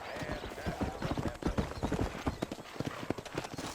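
Horse hooves clip-clop steadily in the Red Dead Redemption video game, a close, even trotting rhythm that runs the whole time with a brief whinny-like tone and faint voice mixed in.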